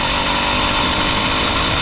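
Small moped engine running with a slipping clutch, a dense buzzing drone at steady loudness for the whole stretch with no voices.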